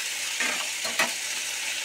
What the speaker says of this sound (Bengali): আলু পেঁয়াজ ভাজা হয়ে গেছে।